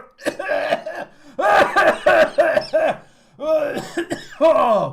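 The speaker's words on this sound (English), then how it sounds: "This cough is kind of crippling." A person coughs hard and repeatedly in several close, loud clusters of harsh bursts separated by short pauses, with a brief exclaimed word in between.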